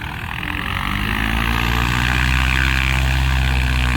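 Vintage biplane propeller engine taking off at a Flying Circus airshow, a loud, droning engine roar with a buzzing propeller tone that swells steadily as the plane gains power, close and continuous.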